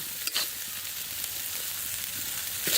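Spices with salt and turmeric fry in a pan over village cooking heat, giving a steady, broad, close sizzling hiss with a faint stir or two and no voices.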